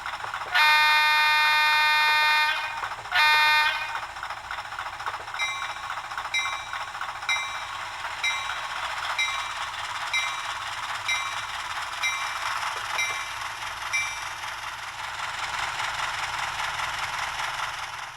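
HO scale model train with onboard speaker playing locomotive sounds: a loud horn blast, a brief pause and a second short blast, then a steady rhythmic engine chug with faint bell-like tones continuing, no talking.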